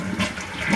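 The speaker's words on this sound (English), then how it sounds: "Maybe you can see when I flush it," A toilet bowl flushes, fitted with a homemade water-softener pellet attachment, a close, steady rush of water throughout the short moment.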